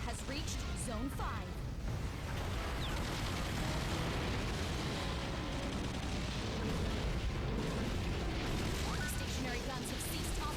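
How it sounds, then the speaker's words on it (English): Buildings blowing up and falling apart in a Godzilla video game: a dense, continuous rumble of explosions and crumbling debris, with a voice talking over it. "Buildings blowing up, falling to pieces."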